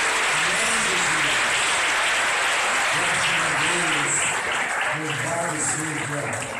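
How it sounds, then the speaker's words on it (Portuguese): Congregation applauding at a church anniversary worship service, a steady dense wash of clapping with voices and singing-like tones running over it throughout. "Vamos dar uma salva de palmas para o nosso Deus."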